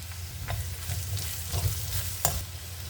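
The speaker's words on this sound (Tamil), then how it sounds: "எண்ணெயிலே ரொம்ப நேரம் நல்லா வேக விட்டுடுவேன்" Ivy gourd fries in hot oil with a steady crackling sizzle, punctuated by a few scraping stirs of a utensil in the pan; close and continuous.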